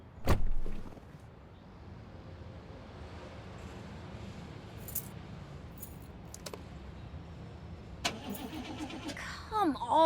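An old jalopy in a murder-mystery adventure game fails to start: a sharp thump, then roughly seven seconds of steady grinding cranking, ending in a flurry of mechanical clicks and rattles.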